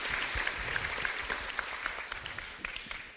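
An audience at the 2012 Seoul social economy idea contest applauds the mayor, giving a faint, continuous wash of many hands clapping from a distance with no talk over it.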